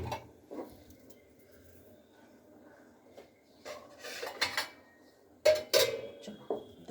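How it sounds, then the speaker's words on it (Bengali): A milk pot is lifted and handled in a home kitchen. Sparse metallic scrapes and clanks of pot and utensils come close by, with a few sharper knocks near the end and no talk. "দাঁড়াও, দুধের হাঁড়িটা একটু তুলে নিই"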